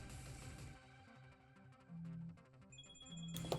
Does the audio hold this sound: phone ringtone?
yes